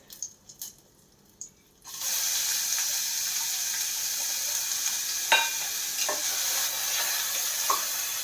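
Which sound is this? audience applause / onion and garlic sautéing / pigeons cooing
onion and garlic sautéing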